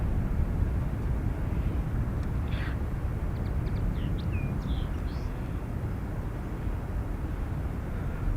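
Airliner taking off from Dublin Airport runway 28 right, a broad, steady distant jet roar with faint bird chirps over it.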